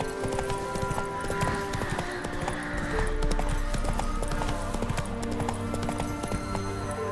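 Roach the horse's hooves clip-clop in a steady trotting rhythm in The Witcher 3, the hoofbeats fairly quiet and layered over game ambience, with a brief whinny-like tone and a soft voice speaking.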